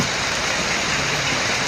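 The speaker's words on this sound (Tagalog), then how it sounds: "Grabe, umulan pa." Steady, dense rain pours down outdoors, a loud continuous hiss of falling water on surfaces that fills the whole stretch without a break.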